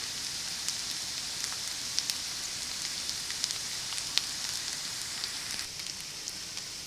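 Rehydrated hash brown potatoes sizzle steadily in clarified butter in a pan, giving a constant, close crackle with scattered sharp pops throughout.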